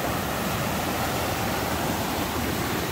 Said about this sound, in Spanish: ve el río